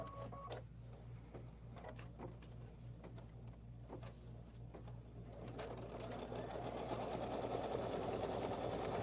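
A sewing machine stitches across a quilt top. Its steady, fast mechanical whir hums close and continuous throughout and grows a little louder toward the end, with faint clicks and no talk.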